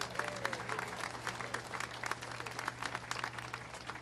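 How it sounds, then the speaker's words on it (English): An audience at a U.S. Transportation Secretary event about American vehicles claps steadily, a quiet, sustained patter of many hands heard from some distance. "Raucous applause, thank you all"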